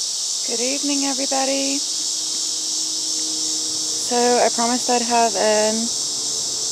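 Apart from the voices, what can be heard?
cicadas buzzing outdoors in the background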